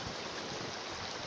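Rushing river water on the Copalita River in Huatulco during a rafting tour, a steady, loud broadband roar with no breaks and no voices.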